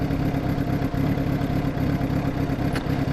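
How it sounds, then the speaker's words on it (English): An engine running steadily at a low idle, a loud, close, even rumble with a faint rhythmic clatter and no talking. "It just takes so much air to run this engine."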